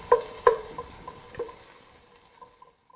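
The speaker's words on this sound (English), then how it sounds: "stir them around in the hot oil, and we just wait for them to heat up" Onions sizzling gently in hot oil as they are stirred around, with a few knocks of a spoon against the pan early on before the frying settles into a quiet hiss.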